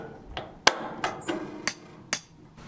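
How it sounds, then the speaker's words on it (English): Chisel striking rock while digging out a stuck hammer drill, about six sharp metallic taps at irregular intervals, fairly close with quiet surroundings between hits. "we've got the hammer drill stuck in a rock, so we're trying to dig it out, trying to chisel it out."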